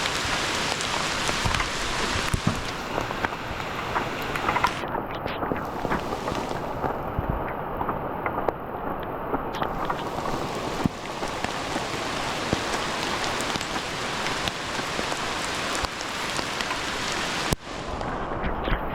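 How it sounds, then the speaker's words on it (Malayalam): Heavy monsoon rain pouring down at Pooyamkutty in Kerala near a river ferry crossing, a dense, continuous roar of drops hitting surfaces that stays loud and steady throughout, with no voices. "ഇവിടെ നല്ല കൊല മഴയാണ്"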